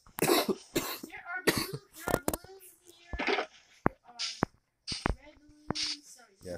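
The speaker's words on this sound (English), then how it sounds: "sorry for all the coughing in the video" Repeated coughing from a person playing Minecraft, sharp bursts spread across the stretch, some in quick clusters, mixed with short bits of talking.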